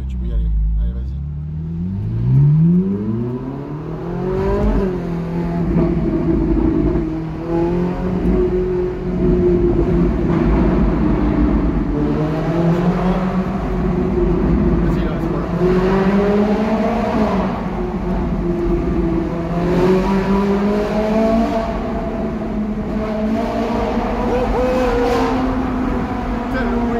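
Ferrari 458 Italia with a Capristo exhaust accelerating through a tunnel, its engine revving up in loud rising sweeps and falling back between gear changes, echoing close throughout while people talk inside the car.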